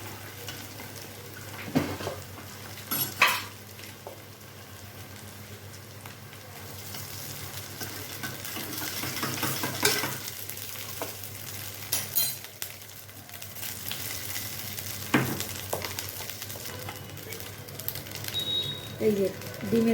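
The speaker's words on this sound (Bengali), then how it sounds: "হ্যাঁ, এখন এটাকে একটু নাড়াচাড়া করব। নাড়াচাড়া করলাম, এখন এর মধ্যে অল্প করে ভাত মিশিয়ে দিচ্ছি।" Fried rice with scrambled egg is stirred in a pan, with a low continuous sizzle and intermittent scraping and clinking of a utensil against the pan in irregular bursts, close and moderately quiet.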